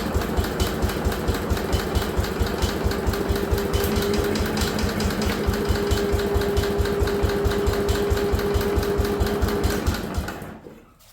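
An Allis Chalmers garden tractor engine cranks over steadily on the starter without firing, a fast, even chugging rhythm lasting about ten seconds before it stops abruptly, loud and close.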